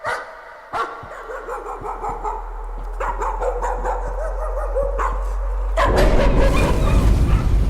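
Dogs bark in the horror game Layers of Fear. Repeated sharp, loud barks and yips come in irregular bursts over a low, steady drone, growing denser and louder toward the end, with no talking.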